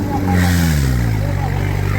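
A modified tractor fitted with lights and a music deck, at a tractor pulling contest, roars with a loud, steady engine drone whose pitch sags slightly over two seconds.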